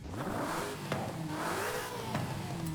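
A car engine in Forza Horizon 5 revs repeatedly, its pitch sweeping up and down in quick cycles, with clear, sustained tone, mid-level loudness and no voices.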